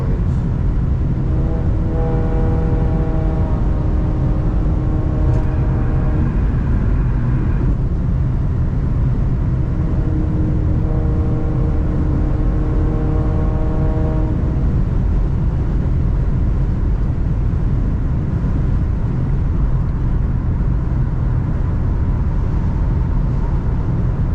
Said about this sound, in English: pure engine noise.